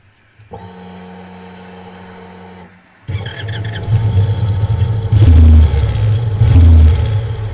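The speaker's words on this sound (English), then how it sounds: "the sound from the long pipes is bloody brilliant." An Indian Chief Classic cruiser motorcycle's low, rumbling engine idles steadily through long exhaust pipes, then swells into deep throaty revs with rhythmic bursts of exhaust, loud and close.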